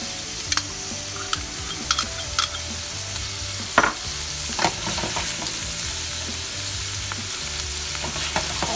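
Food fries in a hot pan on the stove while it is stirred, giving a steady close sizzle with scattered sharp scrapes and taps of the utensil against the pan.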